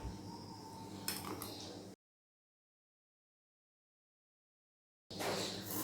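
Chopped brinjal, potato, carrot and onion go into a pressure cooker holding soaked toor dal. A short burst of metallic clinks and clatter is followed by silence, then more rustling kitchen noise.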